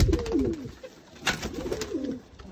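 Sialkoti loft pigeons give repeated throaty coos, a burst at the start and more near the end, close by with light rustling between and nobody speaking.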